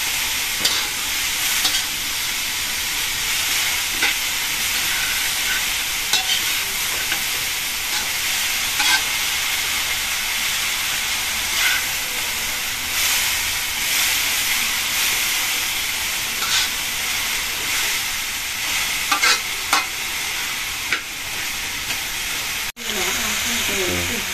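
Bean sprouts and tofu stir-fry in a hot pan, a steady, close sizzle and hiss running throughout with intermittent scraping and stirring clicks, a few soft voice sounds underneath, ending in a brief pause and handling noise.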